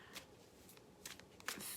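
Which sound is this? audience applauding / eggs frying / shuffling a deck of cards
shuffling a deck of cards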